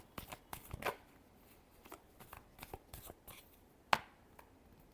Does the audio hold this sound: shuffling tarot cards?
yes